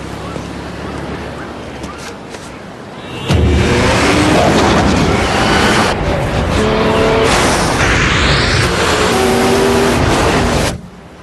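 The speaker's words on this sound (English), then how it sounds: "The all-new 265 horsepower Nissan Maxima." A 265 horsepower Nissan Maxima's engine revs in a TV ad, starting as a low muffled hum, then surging into a loud, sustained roar with tire noise before it cuts off abruptly.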